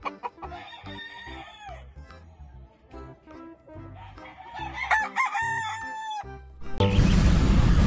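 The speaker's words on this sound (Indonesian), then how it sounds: "ini ada ayam jago" A rooster crows clearly with long, bright calls amid clucking hens and other farm fowl, ending with a burst of loud noise.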